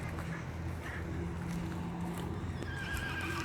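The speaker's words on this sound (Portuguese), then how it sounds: "Aquele ali atrás é o meu cavalo, Tampinha, ou Tantan." A horse on a Brazilian farm gives a faint, distant neigh. It sits low in a steady wash of outdoor background noise, with no speech over it.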